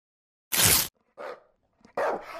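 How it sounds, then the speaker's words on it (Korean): A dog barks loudly inside an apartment, giving three sharp, close barks separated by short pauses, with no voices. "개 짖는 소리가 아파트를 가득 울렸단다"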